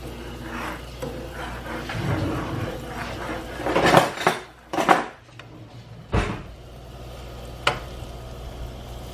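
A spoon stirring hot fudge with marshmallow fluff in a pot, close and moderately loud, with scraping and clinking against the pan in irregular bursts over a low background hum.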